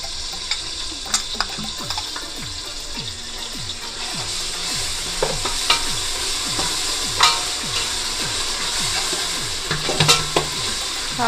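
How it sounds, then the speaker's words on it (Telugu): Ginger and shallot paste fries in a pan with a steady, close sizzle, punctuated by frequent scraping strokes from stirring that speed up in the second half; no one speaks. "అల్లం చిన్నపాయ పేస్ట్ కూడా పచ్చివాసన పోయేంత వరకు మనం వేపుకుందామండి"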